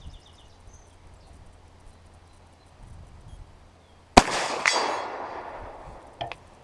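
A Stoeger M3K shotgun fires a single slug at a steel torso target 100 yards away, one sharp loud blast followed by a long rolling echo, with a faint distant metallic ping about two seconds later.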